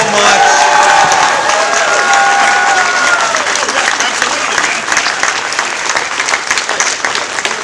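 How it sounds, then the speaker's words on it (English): Convention audience applauding panelists at a game expo, loud sustained clapping from a large crowd with some cheering and a few voices, fading slightly toward the end. "let's give a round of applause to our panelists for their time."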